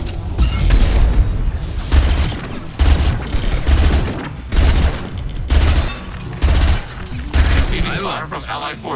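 Gunfire and heavy high-impact shots in the video game Mass Effect 2, loud repeated bursts of booming rapid fire separated by short gaps, with mechanical clanks and game voices speaking over parts of it.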